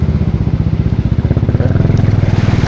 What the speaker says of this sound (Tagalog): Sundan natin yung motor.